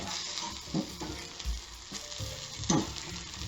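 Zucchini fritters fry on an old stove, a steady close sizzle with a few crackling pops and soft stirring scrapes, no talk.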